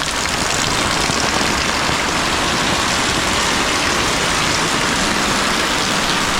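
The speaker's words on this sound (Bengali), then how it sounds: "কি অবস্থা দেখো, প্রচুর বৃষ্টি হচ্ছে।" Heavy rain hammering down on a muddy street during a morning storm, a loud, constant wash of drops close by with no pauses and no voices.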